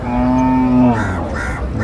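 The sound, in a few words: cattle mooing at a livestock market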